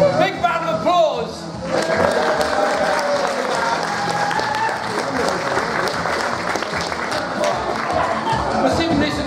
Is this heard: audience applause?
yes